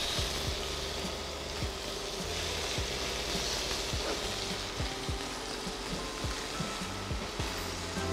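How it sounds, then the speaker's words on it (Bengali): Beef steak sizzles loudly in a hot pan, giving a steady close-up crackle and hiss broken by regular light knocks and scrapes, with no speech. "এটা প্যানটা গরম হয়ে গেছে, তো আমি স্টেকটা দিয়ে দিচ্ছি।"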